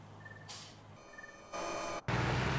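A truck in the video game Farming Simulator 19 gives two faint, short reversing beeps, followed by loud bursts of hissing air like brakes releasing.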